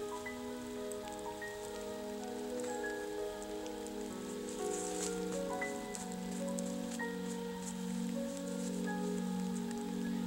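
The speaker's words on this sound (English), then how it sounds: "it's starting to sprinkle rain" Light rain patters steadily on a canvas shelter at a 1790s-style trail camp, a soft continuous hiss beneath a sustained musical drone.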